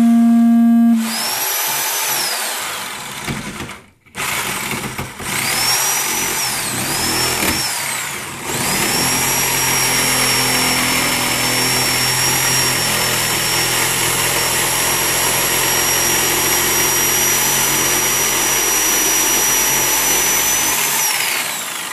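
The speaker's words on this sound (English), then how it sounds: "it's nailed in, so I have to use my metal sawzall to cut the nails" A metal Sawzall reciprocating saw cuts through nails holding an electrical box in a wall. Brief bursts with short pauses come first, then a long continuous buzzing cut with a high whine, close and loud, and no talk.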